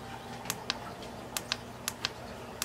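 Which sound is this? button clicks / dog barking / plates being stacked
button clicks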